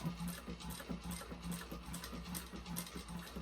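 Sewing machine back-stitching nylon bag fabric near the hardware with poly-bonded nylon thread, a close, quiet, rapid needle chatter running steadily with short pauses.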